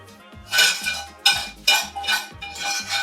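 A spoon scrapes and clinks against a quiche dish while a spinach, shallot and garlic mixture goes in, in several close, sharp bursts of metal-on-dish knocks and scrapes.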